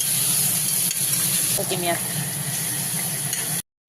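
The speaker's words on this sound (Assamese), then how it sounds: "এইবাৰ সানি থোৱা পিঁয়াজখিনি ইয়াত দি দিলোঁ আৰু অকণমান সময় লৰাই দিম।" Marinated onions tipped into hot oil in a kadai, giving a loud, steady close sizzle under a brief voice, ending abruptly in silence.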